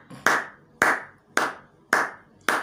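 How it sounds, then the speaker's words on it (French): A congregation applauding at a prayer meeting: sharp, close claps in a slow, even beat, about five strikes, each ringing briefly in the room, with no voices. "Acclamons Jésus, le roi de rois."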